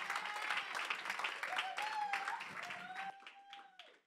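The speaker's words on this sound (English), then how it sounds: "So let's give a big round of applause for Coralie." Church congregation at a Sunday service applauding a returning speaker, a dense burst of clapping that thins and fades toward the end, with voices and a sustained tone over it.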